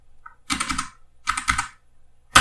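Keys clatter on a computer keyboard in short, close bursts of rapid clicks with quiet gaps between them, and one last sharp key press lands at the end.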